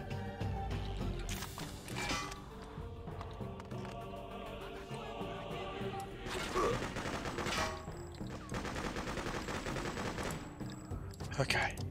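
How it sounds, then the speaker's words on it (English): Shotgun blasts and other gunfire crack in the Freedom Fighters video game in irregular heavy bursts over a busy combat backdrop, with loud shots clustered around the middle and end. "Shotgun there. Is that just a random pot shot?"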